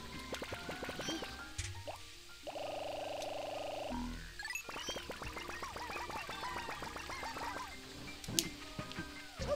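A frog croaking in the video game Pikmin 2, heard as a run of bubbly, watery croaks and gulps, then a sustained droning tone and more burbling, chirpy game sounds, fairly faint overall.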